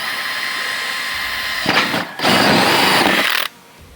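A 1.5-inch hole saw cuts through the plastic panel of a Can-Am Defender MAX: a drill whirs briefly, stops, then grinds steadily for over a second before cutting off.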